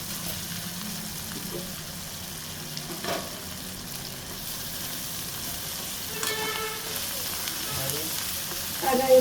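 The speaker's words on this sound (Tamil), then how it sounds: "வெங்காயம், பச்சை மிளகா எல்லா இதுலேயும் மொத்தமாக வதங்கிடுது" Onions and green chillies sauté in a pan for South Indian fish curry (meen kulambu), a steady low sizzle throughout, with a few brief scrapes and clinks of stirring.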